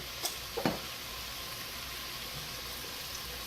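Roast pork pieces frying in oil for an Italian-style dish give a steady, quiet sizzle, with a few small pops and clicks near the start.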